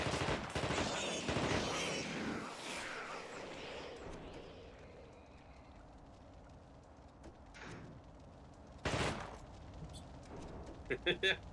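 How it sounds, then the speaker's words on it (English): Gunfire aimed at a creature in The Thing video game: a few loud bursts of shots early and again near the end, with quieter stretches between and talk over the opening. "keep shooting it"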